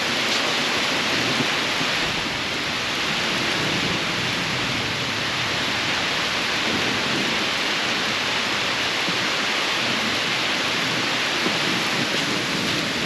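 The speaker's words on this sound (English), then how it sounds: "It is definitely a heavy spring storm right now." Heavy spring rainstorm pouring down steadily, a dense, continuous wash of rain hiss close by with no letup and no voices.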